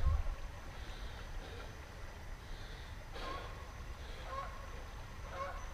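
Canada geese near a muddy floodplain river, several faint, distant honks scattered across the clip over steady outdoor rumble and wind.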